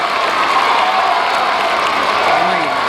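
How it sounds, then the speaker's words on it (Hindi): A large crowd at a Hindu cultural program claps and cheers continuously, a dense wash of applause with scattered shouts and chants of Shri Ram Jai Ram throughout. "आप तालियां बजाकर श्री राम जय राम के उद्घोष के साथ सबका स्वागत करें।"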